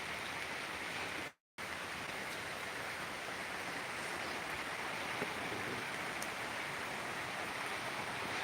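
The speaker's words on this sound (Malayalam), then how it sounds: "ആ സമയത്താണ് ഇങ്ങനെ മഴ കിട്ടിയത്" Steady, dense rain patters down continuously, a broad hiss with a brief dropout of sound early on.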